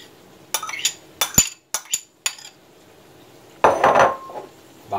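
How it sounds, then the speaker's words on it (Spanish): Onion goes into pickled mussels in a dish, with a run of sharp utensil clinks and taps against the dish followed by a brief burst of scraping and stirring. "vamos a echar la cebolla con los mejillones."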